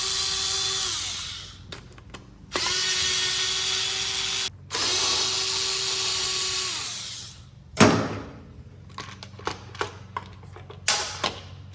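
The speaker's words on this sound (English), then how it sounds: "take this front chain guard off. So with the T25 Torx, we got 1, 2," Power driver fitted with a T25 Torx bit backing out three bolts on a motorcycle's front chain guard, loud close whirring bursts separated by short pauses, ending in quick rattling clicks and handling knocks.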